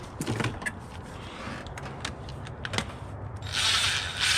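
A ratchet wrench clicks while loosening 12 mm bolts on a 2004 Toyota Sienna engine during head gasket work, with sparse close ticks and a brighter metallic rasp near the end, and no talking.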